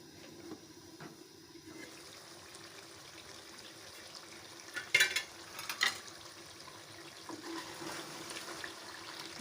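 Meat pickle gravy cooks on low heat in a pot, a soft steady simmer with faint sizzling and a few brief clinks and stirring knocks near the middle, no one talking.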